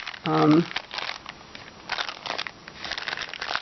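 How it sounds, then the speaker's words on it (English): A paper bag added to a handmade falling-leaves journal is crinkled and handled close by, with a loud crumple near the start followed by softer rustling and crackling throughout. "This is a paper bag that I added."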